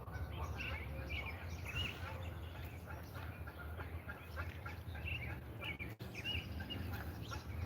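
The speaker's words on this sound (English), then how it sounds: "now I'm looking at like cranes and little birds" Faint outdoor bird chatter from small birds near cranes and ducks, scattered chirps and calls over a constant low wash of ambient noise, steady and distant throughout with one brief knock near the end.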